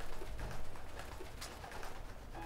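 Pigeon cooing in the video game Metal Gear Solid 2: soft, low, repeated coos in a gentle rhythm, heard alone over a steady background ambience with no talk.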